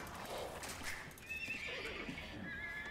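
Horse in Age of Empires 2 neighing with a short whinny over clip-clopping hooves and soft game ambience, moderately loud and brief.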